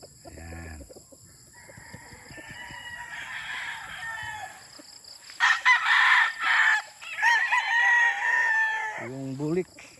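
Sweater and Boston Roundhead gamefowl roosters crowing in a yard, with several drawn-out crows in a row, some loud and close, with clucks and a brief voice in the background.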